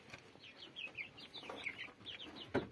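Chickens and chicks cluck and peep inside a newly built poultry coop, with short overlapping calls close by and no talk over them.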